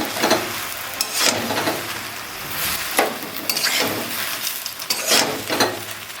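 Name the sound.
stirring and frying jujube (kul) with salt for pickle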